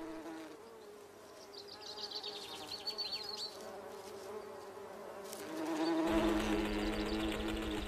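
Honeybees buzz steadily around flowers, a dense droning hum that swells louder near the end as the insects come close.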